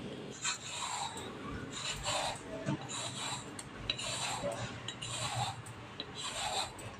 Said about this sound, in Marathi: त्याच्यासाठी आता आपण दुध्या सोलून घेणार आहोत